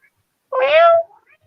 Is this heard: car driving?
no